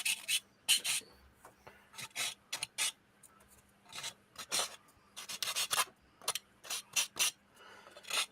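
Small hand tool filing down long locating pins on a plastic model kit by about a millimeter; short, close rasping strokes in irregular bursts with quiet pauses between, no talking.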